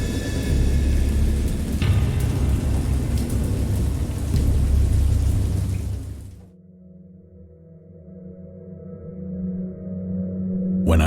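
A thunderstorm with heavy rain and thunder: a dense, loud downpour roars steadily for about six seconds, then drops abruptly to a quieter low rumble before the rain swells again near the end.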